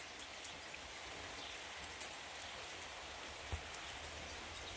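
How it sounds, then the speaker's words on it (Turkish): Light rain falling outdoors while the sun shines, a soft continuous hiss with a few scattered sharper drops tapping nearby surfaces, quiet and even with no voices. "Hem yağmur yağar, hem güneş çıkar."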